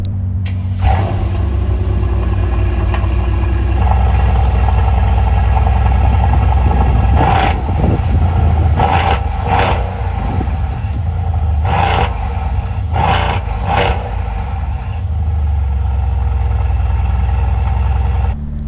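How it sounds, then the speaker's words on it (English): A 2021 Mercedes C63S AMG sedan's exhaust burbles loudly at idle, broken by several sharp revving blips spaced a second or two apart, heard up close from behind the car. "why don't we take a listen to the exhaust note of the C63S"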